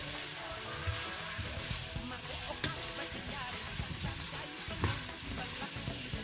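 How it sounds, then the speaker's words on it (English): Onions fry and get stirred into a sausage vegetable stir fry, giving a dense, steady sizzle close to the pan. Occasional clacks from the utensil break through, with faint voice-like sound in the background. "stir everything nicely together"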